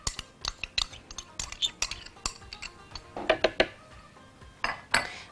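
Yogurt spooned into a mango smoothie in a blender, with a run of bright metallic clinks and scrapes as the spoon knocks against the container, irregular and close.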